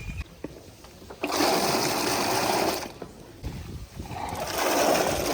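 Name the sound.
water poured into a large tub to wash dates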